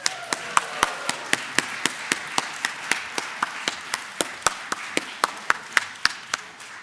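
Sharp, evenly spaced hand claps at a Sunday church service, roughly three per second, fairly faint, like a single person clapping along in a quiet room.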